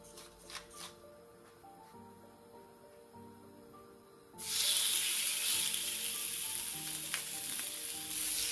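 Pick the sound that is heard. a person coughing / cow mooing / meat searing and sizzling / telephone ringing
meat searing and sizzling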